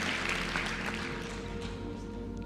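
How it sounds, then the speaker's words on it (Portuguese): An audience applauds one of its members at a live motivational talk, giving a steady, dense wash of clapping that stays even in loudness throughout and has no speech over it. "Uma salva de palmas pra ele"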